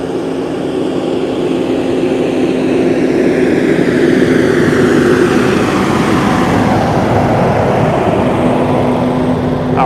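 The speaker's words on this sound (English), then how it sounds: "That was a nitrogen trucker." A refrigerated nitrogen tanker truck drives past the main gate at SpaceX Starbase, Boca Chica, Texas, a loud steady engine roar and road rumble with a droning tone that swells and fades as it passes.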